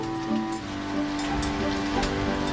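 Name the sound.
rain pelting down during a storm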